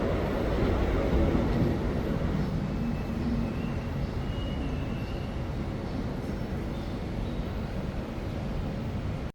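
An electric commuter train rolls into a station with a loud, steady rumble and rattle that holds without pause, then cuts off abruptly.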